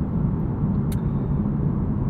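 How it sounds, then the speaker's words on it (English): The naturally aspirated V8 of a 2023 Lexus IS 500 gives a deep, steady rumble heard from inside the cabin, loud and continuous for a couple of seconds. "It howls. It's a big naturally aspirated motor"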